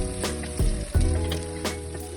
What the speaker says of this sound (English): Saute until onions turn golden brown